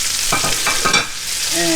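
Onions drop into a hot pot over the seared chicken drippings and sizzle loudly at close range, with a few stirring scrapes in the first second.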